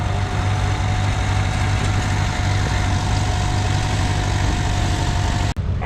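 A 1951 Minneapolis Moline R model tractor runs at a parade of power, its engine holding a steady, close idling chug with a constant low hum and a faint higher tone. One sharp dropout comes near the end.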